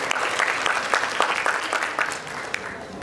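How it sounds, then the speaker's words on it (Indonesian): An audience at a hospital and vocational program event applauds, dense steady clapping from many hands that is close and fairly loud throughout, tapering only slightly near the end. "Kita beri aplaus lagi kepada beliau."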